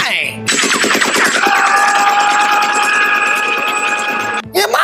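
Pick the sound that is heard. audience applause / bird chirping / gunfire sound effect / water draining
gunfire sound effect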